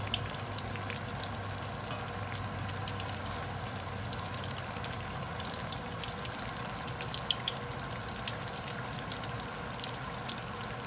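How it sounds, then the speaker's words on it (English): Battered eggplant baiganee fritters sizzle steadily in hot oil, a close, even crackle with occasional sharper pops and no voices. "So I'm gonna fry these baby up"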